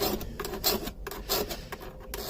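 A hand file rasps along hedge trimmer blades in repeated push strokes, a steady scraping rhythm of about six or seven passes, close and moderately loud with no talk over it.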